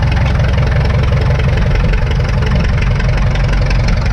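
A 1952 McCormick Super WD-6 tractor, started on gasoline and run on diesel, running with a loud, close, steady pulsing engine beat and a deep throbbing exhaust, no voices.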